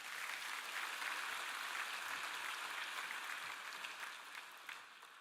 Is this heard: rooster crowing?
no